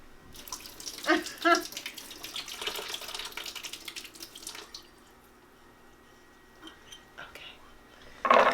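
Water splashes and trickles as soaked cashews are drained in a sink, pouring steadily and then tapering off, with soft talk near the start.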